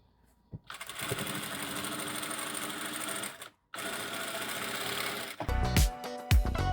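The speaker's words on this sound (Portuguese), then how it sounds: "vou dobrar aqui mais uma vez e vou costurar aqui bem na beiradinha" A sewing machine stitches a folded hem along the edge of a lined chiffon dress. The steady motor whir runs close and loud in two long bursts separated by a short stop, followed by shorter stop-start stitching runs.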